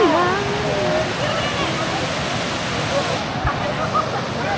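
Ocqueoc Falls in Michigan's lower peninsula rushes steadily, a broad continuous roar of falling water heard at close range, with people talking and other voices over it.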